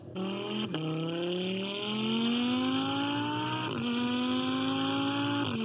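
A 5.2-litre naturally aspirated 525-horsepower V10, shared with the Lamborghini Gallardo, revs hard under acceleration, its pitch climbing steadily and dropping sharply at each of three upshifts, loud and close.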